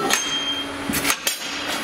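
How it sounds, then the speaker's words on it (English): Chipping hammer knocking slag off a fresh corner weld, a few sharp metallic taps and clinks in quick succession, close and fairly loud with no talking. "Let me chip the slag off."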